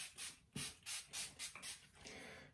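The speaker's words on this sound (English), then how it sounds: "I just spray it in my hair." Hair mist from a spray bottle is pumped onto curly hair in a quick series of about six short, close hissing bursts, followed by a softer rubbing sound.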